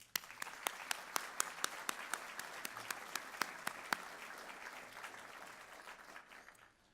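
An audience applauds to welcome guest speaker Charlie Bass at a Success and Leadership event, with steady clapping and crisp individual claps standing out, then fading toward the end.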